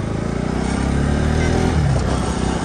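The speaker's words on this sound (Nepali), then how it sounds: "बाइकै बिग्रेछ भाइ आवाज आइरहेको" A faulty motorcycle engine runs with a steady, rough, close drone that holds without a break.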